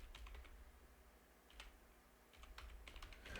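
Someone types an email address on a computer keyboard in quick bursts of close, light key clicks, with a short pause in the middle.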